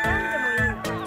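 An Easter Egger hen, an Araucana cross of unusually large build, gives a few close, throaty clucks in a brief burst with soft background noise.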